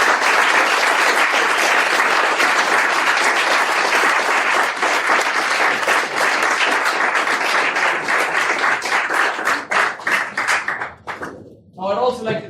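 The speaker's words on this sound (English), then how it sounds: "Let's give him a round of applause." A large audience claps steadily in loud sustained applause, which thins and fades out near the end.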